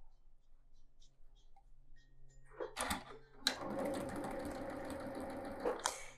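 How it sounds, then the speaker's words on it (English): A sewing machine stitches together rectangle quilt block pieces at about half speed, a steady close whirring run after a few quiet handling clicks. "Put the rectangles on top and go ahead and stitch these together"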